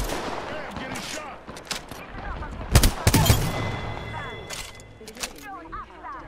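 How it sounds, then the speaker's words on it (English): Rapid bursts of automatic gunfire in the video game Apex Legends, several clustered volleys with a loud peak in the middle, heard close and punchy while players talk over the action. "Hey, I'm getting shot."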